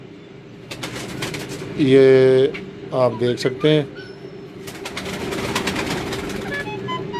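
Pigeons at a pigeon club coo in low, throaty bursts, loud and close, with someone speaking over them and a steady hum in the background.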